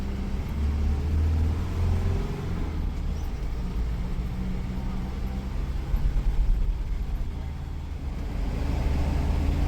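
Inside the Esteem Sulthana bus on the Kuttiyadi to Perambra route, a steady low engine drone and road rumble fill the cabin as it drives through Kadiyangad town, with slight swells in loudness.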